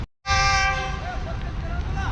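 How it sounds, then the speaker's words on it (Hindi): Karakoram Express passenger train arriving at Ring Road Junction railway station: a loud, sustained horn blast with stacked harmonics begins abruptly after a brief silence, then fades into steady rumbling rail noise with faint voices in the background. "42 डाउन कराकरम एक्सप्रेस भी पहुँच चुकी है रिंग रोड जंक्शन पर"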